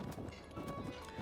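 Horse galloping in The Legend of Zelda: Breath of the Wild on Nintendo Switch 2, a steady rapid clip-clop of hooves mixed with game ambience and a voice talking over it.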